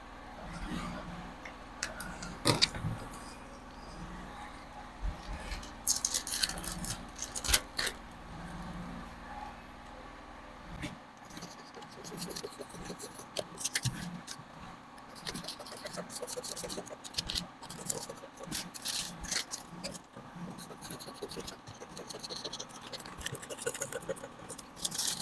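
Scissors snip and click through fabric while a pattern for an off-the-shoulder bustier top is cut out, with close, irregular snips and soft paper and cloth rustles throughout.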